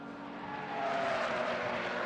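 Swift Cup race cars brake hard into the chicane at the Hungaroring, a steady engine roar that swells and holds, with a whining tone sliding downward as they slow, no talk over it.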